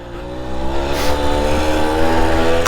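A 1991 Tomos 50 two-stroke moped with two gears is ridden, its small engine droning loud and close as the pitch climbs steadily, with a brief rise in noise near the gear change.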